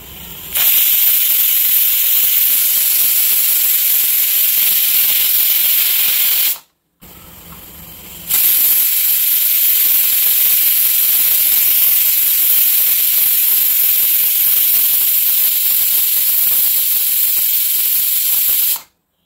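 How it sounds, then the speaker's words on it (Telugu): A pressure cooker cooking chicken gives two long loud steam whistles, each a sharp sustained hiss of about six and ten seconds, separated by a brief pause and heard alone. "ప్రెషర్ కుక్కర్ లిడ్ని అయితే క్లోజ్ చేసేయాలి క్లోజ్ చేసి జస్ట్ మనకి రెండు విజిల్స్ వస్తే చాలు"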